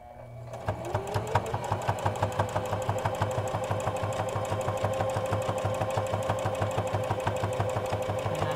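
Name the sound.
sewing machine stitching a fabric mask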